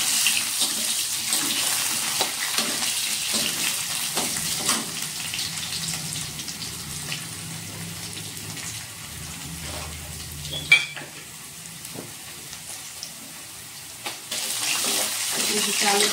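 Potatoes fry in a little oil in a home kitchen pan, giving a steady mid-level sizzle with faint scraping and a sharp clink near the middle, no talking over it.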